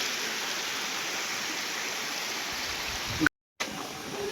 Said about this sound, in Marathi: सगळं पाणी वाहत आहे. तटबंदी समोरच आहे. वॉटरफॉल खूप मोठा आहे.